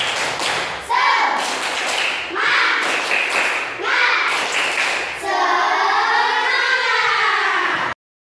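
A school class claps in a rhythmic pattern of short bursts separated by brief pauses, then a sustained wavering tone follows; voices chant along with the clapping.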